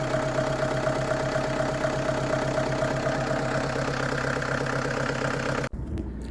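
A sailboat's auxiliary engine, running again after a jury-rigged fuel separator and filter repair, idles with a steady low mechanical chug, close and continuous, before a sudden cut near the end.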